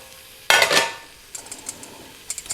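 Hand-crushed tomatoes dropped into a cooking pan for tomato soup, a sudden wet splat followed by a brief sizzle and a few light clinks of a utensil against the pan, close and without talk.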